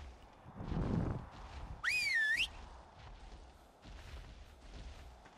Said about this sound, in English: Why did you just whistle?